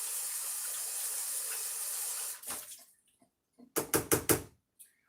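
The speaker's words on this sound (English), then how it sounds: "now I'm going to rinse this out real good" Tap water runs steadily into a container for about two seconds, then cuts off, followed by a burst of close hollow knocks and sloshes as the container is rinsed out, with no talking.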